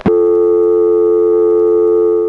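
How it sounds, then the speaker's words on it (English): Steady lockout relay tone from a Stromberg ESC telephone exchange in Quarryville, Pennsylvania, 1976, a loud continuous buzzy chord that holds unbroken after a brief click at the start. "when you don't hang up long enough, you end up here on the lockout relay."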